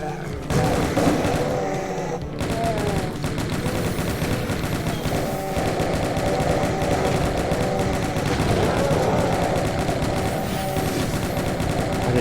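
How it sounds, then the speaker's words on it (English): In Doom 2: TNT Evilution, level 20 Central Processing, a chain gun fires in a dense, rapid stream of loud shots that continues for the whole stretch, over game music and other gunfire. "Chain gun is pretty useful in this map,"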